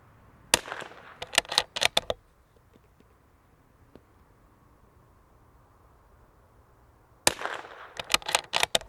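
A suppressed Bergara .22LR rifle fired at a target in two quick strings of sharp, muted cracks, one near the start and another near the end, separated by quiet.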